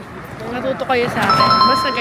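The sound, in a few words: pedestrian crossing signal sound in Nagoya, Japan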